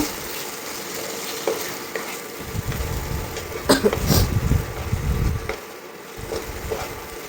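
Fried potatoes stirred into fish curry masala in a pan, with a low sizzle and a few seconds of scraping stirring in the middle, close and fairly quiet.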